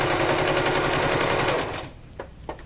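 Sewing machine running a rapid back stitch over a ribbon, a steady, loud mechanical chatter for most of the moment, then stopping, with a couple of faint clicks afterward.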